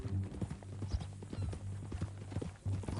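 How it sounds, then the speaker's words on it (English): A horse's hooves clip-clop in a quick, steady rhythm in the video game Red Dead Redemption 2, moderately quiet with faint background noise. "That new horse?"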